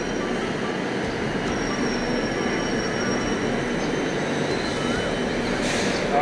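Train noise at New Garia station near Kolkata, a continuous rolling rumble with faint high wheel squeal running through it, heard steadily from the platform.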